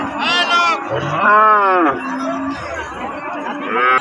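Cows and calves mooing at a rural livestock market in Dinajpur, several loud, close, drawn-out lowing calls overlapping one another, with faint chatter behind.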